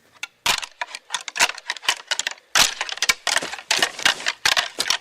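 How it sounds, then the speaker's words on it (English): Sharp clattering clacks and cracks of rutting white-tailed deer bucks striking antlers together in quick irregular bursts, close by, with no voices. "The bucks, when they're rutting, do get into fights"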